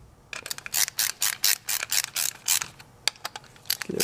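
GM power door lock actuator being rebuilt, with its motor cover screws tightened: a quick run of sharp ratcheting clicks and small mechanical rattles, close up, in uneven bursts.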